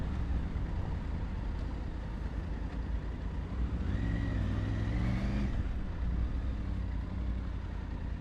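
A Triumph Tiger 900 Rally Pro motorcycle rides along under heavy road and wind rumble, its engine note climbing briefly in a downshift blip before settling back into the steady drone.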